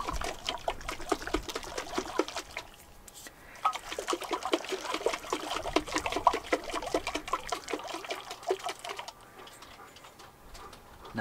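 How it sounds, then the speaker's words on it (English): Jar of soil and water shaken by hand, rapid rhythmic sloshing and rattling in bursts with brief pauses, close and fairly quiet. "I'm going to shake that up so the water mixes in with the soil."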